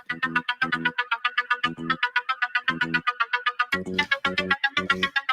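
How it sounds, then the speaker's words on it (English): An incoming WhatsApp call ringtone chimes during a live boating-incident call-in show, a repeating pattern of bright electronic tones with low pulses, clear and prominent with no voices over it. "You have a call on the WhatsApp."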